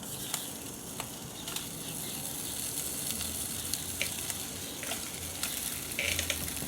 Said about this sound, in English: all we've got to do is throw this ham on